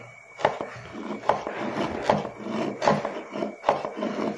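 A knife slices crab meat into strips on a wooden cutting board. Five or six evenly spaced, close thuds land about every 0.8 seconds, with soft scraping between the cuts.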